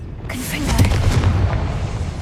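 A Confringo spell detonates in Hogwarts Legacy, a deep booming blast that swells in after a brief quiet moment and rumbles on with a rolling tail, close and loud.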